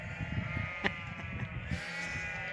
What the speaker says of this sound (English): They're currently dividing the sheep and spraying and marking them and segregating them, taking some away in the trailer.